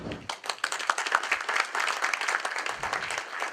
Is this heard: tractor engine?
no